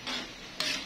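Mung beans stirred in a pot after seasoning with pork or chicken cubes, salt and pepper: two short, close scraping strokes of a utensil with a soft background sizzle.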